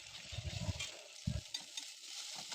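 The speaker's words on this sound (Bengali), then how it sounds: "ডিমটা আবার ভেজে নেব ঝুরি ঝুরি করে" Beaten eggs fry in oil in a wok while being scrambled, giving a soft steady sizzle with a few low scraping stirs, close but quiet, with no talk.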